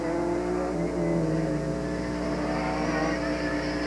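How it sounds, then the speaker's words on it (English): A race-prepared Class B modified Austin Mini on racing slicks drives an auto slalom course, its engine droning and revving steadily with a buzzy, tonal note heard from nearby without pause. "On the course now is Clark Wilson driving Austin Mini in the Class B modified."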